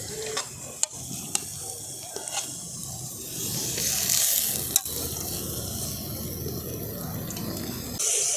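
Grated carrot and potato go into a pan of lightly fried onions, giving a soft, steady sizzle with a few sharp clinks and scrapes of stirring, close up and without talk.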